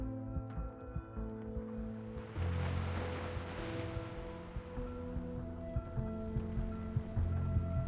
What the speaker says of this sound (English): The waves crash onto the shore, bringing debris from the plains with them.